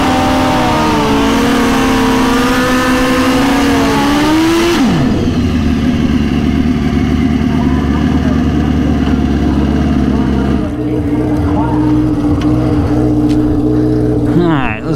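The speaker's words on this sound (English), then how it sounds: "Richard's bike is crazy loud. Thing has a pro charger on it." A ProCharger-supercharged Suzuki GSXR 1000 drag bike at a drag strip, very loud and close, its engine howling at steady high revs, then dropping and settling into a rough idle under voices.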